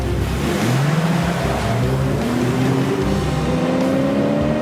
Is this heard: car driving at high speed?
yes